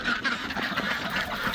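Ducks quack at a backyard homestead flock that also includes a turkey, a busy, close chorus of overlapping calls running steadily throughout without any talk.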